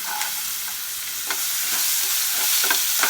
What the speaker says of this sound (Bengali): একটু নাড়াচাড়া করে গোটা রসুনগুলো এর মধ্যে দিয়ে দেবো